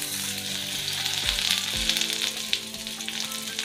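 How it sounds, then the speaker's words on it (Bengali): A chopped tomato sizzles loudly in hot oil with reddened fried onions in a pan, a continuous close frying hiss with a few knocks for an egg tadka. "পেঁয়াজটা লাল করে ভাজা হয়ে গেছে, এবারে 1টা টমেটো দিয়ে দিচ্ছি"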